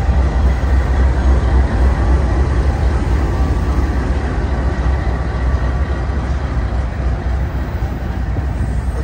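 A long Union Pacific freight train grinds steadily past nearby at Emeryville Amtrak Station, California, a loud continuous rumbling roar with no break.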